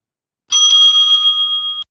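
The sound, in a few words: timekeeper ringing a bell twice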